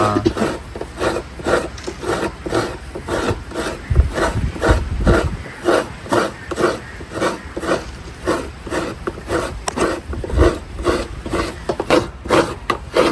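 Coconut grated by hand in a home kitchen on a fishing coast, a steady rhythmic rasping of regular scrapes at close range, with a few heavier thumps partway through.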